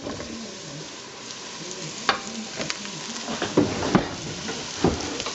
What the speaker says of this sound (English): We're going to put a little oil in and throw in our mushrooms.